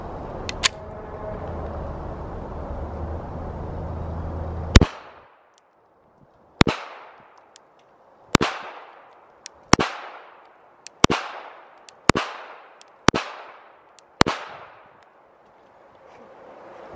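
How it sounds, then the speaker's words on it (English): A Glock 42 .380 pistol fires eight loud, sharp shots at uneven intervals. Each crack rings off into a short echo, with quiet handling noise before the first shot. "I'm gonna shoot 8 rounds out of a Glock 42, which is also a 380."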